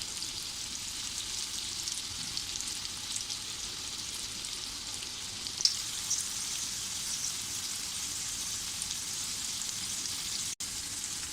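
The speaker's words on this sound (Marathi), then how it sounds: "आता आपण बटाट्याची एक बाजू अशी परतून घेऊया" Potato slices coated in rava frying in a pan, a continuous even sizzle with a soft rain-like hiss, close and unbroken, with one faint tap near the end and no talking.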